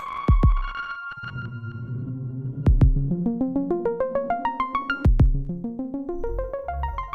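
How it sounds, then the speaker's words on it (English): A synth sound run through a granular fragments effect produces rising, stepping pitched echoes and a repeating pulsed texture, broken by a few sharp low thumps, with no voices. "Let's do fragments. I can't resist some granular craziness."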